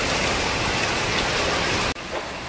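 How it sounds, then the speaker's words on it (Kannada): Heavy rain pours down steadily as a dense, loud hiss of drops on surfaces near an outdoor cooking spot in Hoskote, stopping abruptly near the end. "ಮಳೆ ಜೋರ ಬರ್ತೈತೆ"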